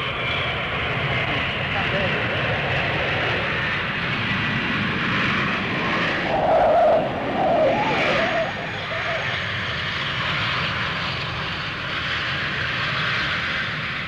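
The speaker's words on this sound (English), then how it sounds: "This Boeing 707 is landing on 3 engines in a strong crosswind." Boeing 707 landing on three engines in a strong crosswind at Bedford airfield, a steady loud jet roar with a brief rise in the middle, under a voice talking throughout.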